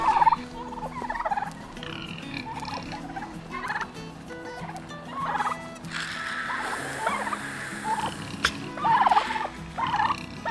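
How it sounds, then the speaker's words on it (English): A flock of large farm-raised turkeys gobbles loudly and repeatedly, overlapping calls rolling in bursts close by for the whole stretch, with no one talking. "Our turkeys are getting absolutely gigantic."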